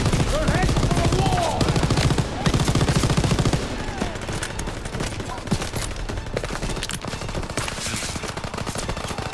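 A belt-fed machine gun in Call of Duty: WWII fires in long, loud, sustained bursts of rapid shots, close and continuous throughout, with combat noise around it.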